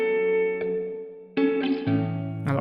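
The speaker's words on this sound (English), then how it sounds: "Increase the reverb tail" Guitar through HitVerb convolution reverb modelled on Hit Factory studio rooms, with a lengthened reverb tail: sustained chords ring out and hang in a smooth wash, with new strums entering over the lingering decay.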